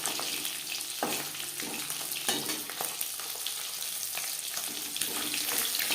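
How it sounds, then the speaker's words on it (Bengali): Live fish fries lightly in hot oil, a dense continuous sizzle with intermittent spattering crackles and pops, close and moderately loud throughout. "জ্যান্ত মাছ আমি একটু হালকা করেই ভেজে নেব।"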